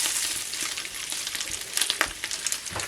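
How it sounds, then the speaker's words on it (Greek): Food sautéing in a frying pan, likely leftover pasta being browned, gives a steady bright sizzle with small crackles and occasional stirring clatter, fairly close and with no talking. "να τσιγαριστεί λιγάκι, να σοταριστεί"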